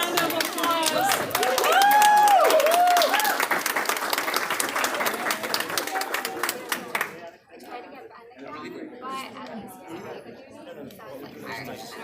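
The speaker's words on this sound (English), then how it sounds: "Jason Green, another round of applause." An audience claps warmly at a Muslim writers' gathering, a dense round of applause mixed with cheers and voices for about seven seconds, then tapering into scattered claps and quiet murmuring.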